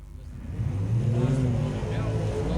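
HK Holden Monaro Super Gas drag racing car revving and pulling away at a drag strip, a steady, loud mid-range engine roar under an announcer's commentary.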